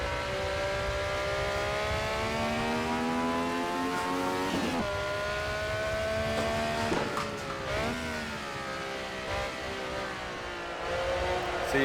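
Honda race car in Assetto Corsa screaming near 11,000 rpm around VIR, the engine note rising steadily through the gears with sharp drops at each upshift, loud and continuous with faint tire noise underneath.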